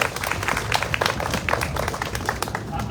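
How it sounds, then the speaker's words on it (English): Audience applause at a Maryland preservation awards ceremony, a steady wash of many hands clapping at close to medium distance, sustained and even for about three seconds with no voices standing out. "So I want to give them all a round of applause."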